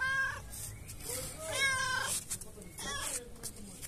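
A cat meows several times in short, high cries, close by, while a person talks softly around the calls.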